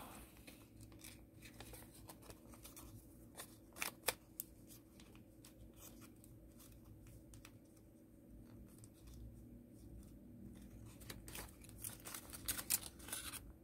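Paper crumpled and tucked inward while folding an origami Corruptor from StarCraft 2, faint close crinkles and rustles with scattered sharp taps, alone and quiet.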